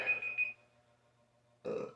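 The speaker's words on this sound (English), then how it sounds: "So I got a burp coming." A single close burp rises from a quiet room and trails off into near silence, followed by a second short guttural burst near the end, with no talk in between.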